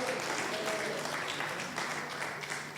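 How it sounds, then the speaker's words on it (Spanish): A church congregation at a Spanish-language service breaks into brief applause for the Lord, a dense clatter of many hands clapping together, moderately distant and steady throughout. "¿Cuánto le da un aplauso al Señor por eso?"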